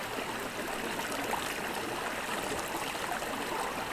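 A creek rushes steadily through a gorge, a constant close broadband wash of flowing water with no voices.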